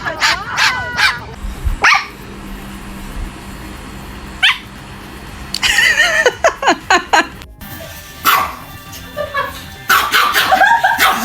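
A parrot imitates dog barks at a dog, giving short sharp yaps and whimper-like calls in scattered bursts, loud and close, while real dog sounds and a voice come through between them.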